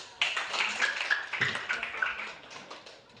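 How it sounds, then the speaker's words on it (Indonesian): A few scattered, irregular hand claps ring out in a school gym during a mat tumbling lesson, mixed with children's voices and room noise. "Tepuk tangan."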